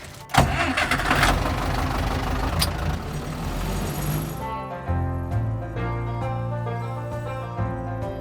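A large harvester engine cranks and catches, then settles into a steady, throbbing low idle with a rough mechanical rumble, close by and loud.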